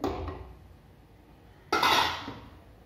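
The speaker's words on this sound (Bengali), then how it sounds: "একটু নাড়াচাড়া করে" Utensil scraping and clinking inside a cooking pot as a dish is stirred, a quiet rustle at first, then a louder, brighter burst of metallic stirring partway through, with no talk.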